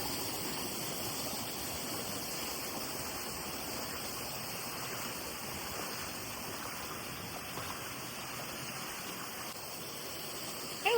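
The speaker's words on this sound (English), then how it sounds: "Our own private waterfall." Steady rushing water from a private waterfall and stream near the Delaware River on the NY/PA border, a constant broadband roar with no pauses, moderately distant and unbroken.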